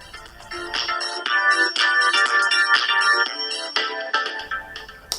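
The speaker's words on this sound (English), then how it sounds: "Oh, that's my phone." A mobile phone ringtone plays loudly and close, a bright repeating melodic pattern running for several seconds without talk over it.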